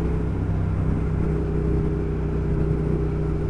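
Triumph Thruxton R motorcycle engine pulling steadily under acceleration, a continuous, moderately loud rumbling drone heard close up with no pauses.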